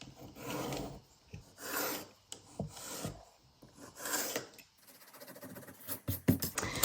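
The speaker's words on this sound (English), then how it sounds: "I erased the wrong line" A pencil line is erased on paper for a junk journal with a rubber eraser, producing repeated close raspy rubbing strokes in short bursts with brief pauses between them and no talking.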